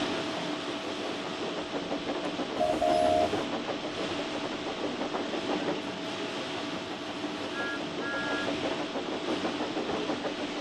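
Steam engine chugging along a railway line through countryside, a steady mechanical rumble and clatter of wheels running continuously at moderate distance, with brief whistle-like tones appearing now and then.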